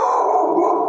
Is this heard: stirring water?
no